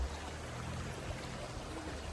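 A continuous, gentle babble of a stream flowing at Honey Beach, steady and unbroken, with a low rumble underneath and no voices.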